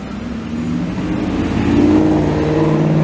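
A car engine revs loudly and steadily, rising in pitch toward the end, with no talking.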